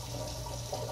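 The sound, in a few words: water running from a tap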